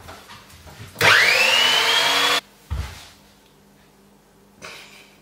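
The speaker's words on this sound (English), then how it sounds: "So, we're going to go over to our mixer." Electric hand mixer beating creamed cookie dough for mini egg cookies, a loud steady motor whine that rises in pitch at the start and runs for over a second before cutting off, followed by quieter background knocks.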